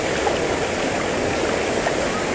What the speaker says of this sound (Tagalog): Ito po yung pinanggagalingan ng tubig. Ang dami pong waterfalls dito.